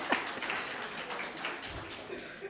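A crowd applauds with a steady wash of dense clapping that holds at an even level throughout, with no voices standing out.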